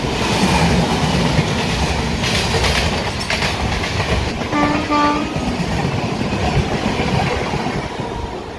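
The Karnataka Express runs on rails with a loud, continuous rumble and rhythmic clickety-clack of wheels close by, and a short two-note horn blast sounds midway through.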